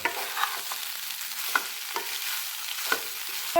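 Potatoes and drained soybean chunks with a little salt frying in a pan, a soft continuous sizzle punctuated by several sharp spatula scrapes and taps, no talking.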